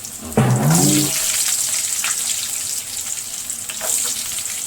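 Curry leaves and garlic go into hot oil for a peppery milagu kuzhambu, setting off a sudden loud sputtering burst that settles into a steady close sizzle with light clinks and no talking.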